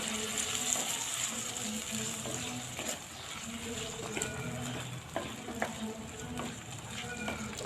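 A spoon scrapes and stirs tomatoes into chicken curry frying in a pan, with repeated clacks against the pot over a low, steady sizzle.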